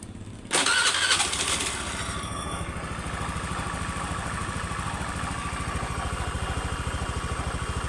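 A 2014 Honda Scoopy-i (KZL) motorcycle, freshly reassembled with its valves adjusted, starts up with a sudden loud burst, then settles into a steady, close idle with no speech.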